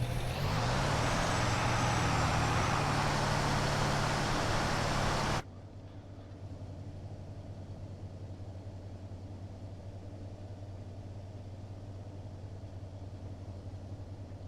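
A tractor engine in the video game Farming Simulator 22 hums steadily and loudly, then drops abruptly to a quieter, lower continuous drone for the remainder.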